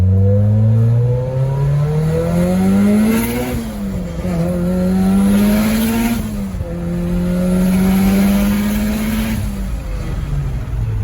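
A Subaru or Mitsubishi Evo engine runs strongly after being repaired, revving up and down in several loud, rising sweeps with steady idle in between, close and continuous with no talking.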